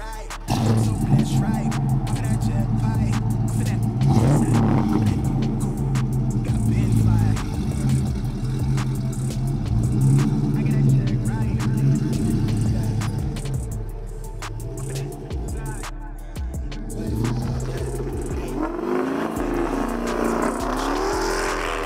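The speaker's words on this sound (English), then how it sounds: "doing a couple of pulls and testing the car" A Dodge Scat Pack 392 V8 engine roars and revs steadily, rising and falling in pitch as it accelerates hard, loud and close throughout.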